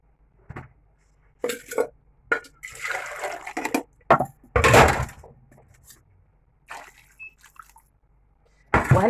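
Water splashes and pours into a pot of trotters in several short bursts, with clanks of cookware in between, close and fairly loud.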